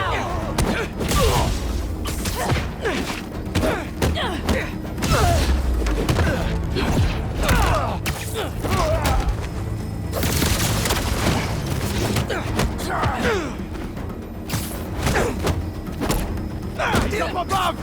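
Rapid bursts of gunfire crackle through a busy battle in the video game Marvel's Spider-Man 2, with dense repeated shots and thuds running almost continuously alongside loud game music and effects.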